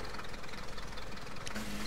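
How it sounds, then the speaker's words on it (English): The Marauder car engine in Rocket League, a steady mid-pitched engine drone with a slightly knocking texture, loud and continuous, with a brief higher whine near the end. "oh no, it's the Marauder engine"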